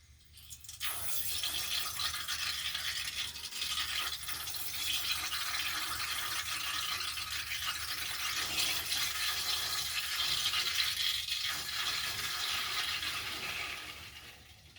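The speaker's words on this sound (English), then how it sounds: "What you heard was the air that was trapped up in there" Trapped air sputtering and hissing out of household water pipes on a Pelican 14 GPM whole-house UV water treatment system after the bulb change, a steady rushing hiss lasting over ten seconds, fairly quiet, no voices.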